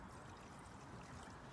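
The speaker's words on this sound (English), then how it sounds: "I'm going to pour some of this gasoline into this bowl here" Gasoline poured from a container into a bowl, a steady close liquid splash and trickle that runs evenly throughout without pause.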